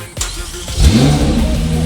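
A supercar engine with stock exhaust idles and then revs up sharply, settling into a loud, throaty rumble close by.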